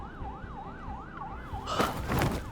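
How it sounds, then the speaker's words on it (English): Police sirens in a Love and Deepspace game scene wail in a steady rising-and-falling cycle, fairly close, before a sudden burst of bright, noisy action sound takes over. "As the piercing wail of police sirens grows closer"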